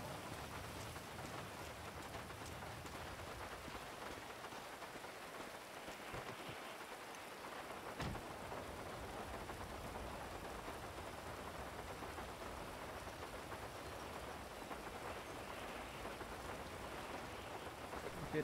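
Steady rain pours throughout with a dense hiss in the video game Grand Theft Auto V, and a sharp thunder crack strikes once near the middle.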